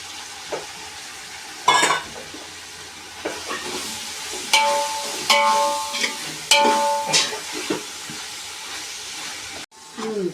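Tomatoes hit hot oil in a pan of spicy biryani masala with chilli, sizzling and hissing close by while a spoon stirs and scrapes in bursts, with brief clanks between.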